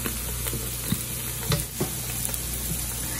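Garlic and sauces are stirred in a hot pan, giving a steady low sizzle broken by a few soft scraping knocks of the utensil, close and alone without talk.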